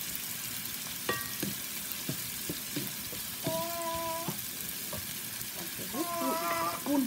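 Curry leaves dropped into hot oil crackle and sizzle steadily in a home kitchen, with a constant frying hiss, occasional utensil clinks and faint background sounds.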